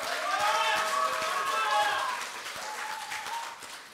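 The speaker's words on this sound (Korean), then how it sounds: "박수 한번 쳐주시기 바랍니다" Applause from a party convention crowd fills the hall, a dense, fairly loud clapping that holds for a couple of seconds and then thins out and fades.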